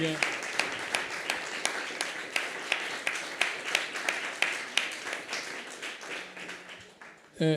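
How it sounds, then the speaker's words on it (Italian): An audience at a Web3 conference panel applauds the three speakers, with crisp, fairly close claps forming a steady round that thins toward the end before a brief voice cuts in. "farei un applauso innanzitutto ai 3 relatori"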